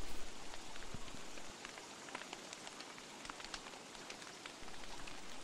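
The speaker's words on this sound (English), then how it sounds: "this rain means business right now." Rain falling in the survival video game Don't Starve: a steady, soft hiss with scattered droplet ticks, even and continuous throughout, with no speech.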